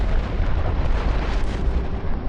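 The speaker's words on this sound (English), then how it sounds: "Now the mass is supercritical, causing a nuclear explosion." A nuclear explosion roars as a continuous, heavy, rumbling blast, loud and dense across the whole stretch with deep low thunder and no letup, with no voices.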